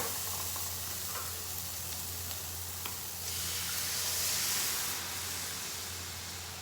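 Almond milk poured into a pan of sardine sauce for fusilli pasta, a constant broad sizzling hiss that swells midway and then eases slightly, heard alone without talk.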